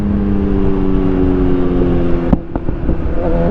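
Kawasaki Ninja ZX6R fitted with a Lextek SP7C exhaust and decat headers, idling loudly with a steady droning burble, then a sharp blip and a few quick throttle pops near the end.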